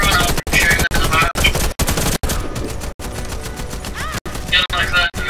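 Gunfire in the shooter video game Warface on Nintendo Switch, with loud rapid automatic bursts broken by brief gaps and a quieter stretch in the middle, while a player talks over parts of it.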